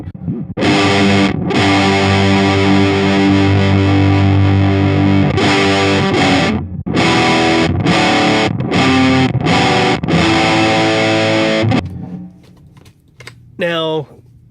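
An electric guitar runs through a Big Muff fuzz pedal, each chord hit with a thick, ripping, saturated attack and held loud, with a few short choppy stabs and a brief voice near the end.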